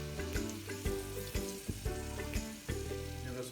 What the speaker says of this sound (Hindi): उसी ऑयल में फिर हम लोग चिकन फ्राई करेंगे